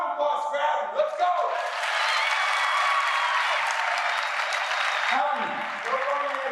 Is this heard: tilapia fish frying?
no